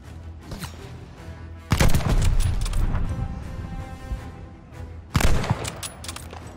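Submachine gun fire in a Call of Duty Search and Destroy match on the Oasis map: two loud, sharp bursts of rapid shots close by, with quieter game noise in between.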